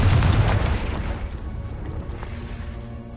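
A Confringo blasting spell goes off in Hogwarts Legacy, a loud deep boom at the start that rumbles and slowly fades over a few seconds with no voices.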